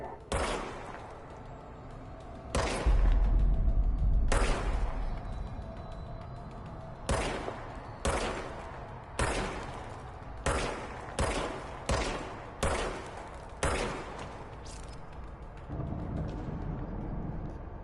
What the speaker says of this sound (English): Fire the service weapon.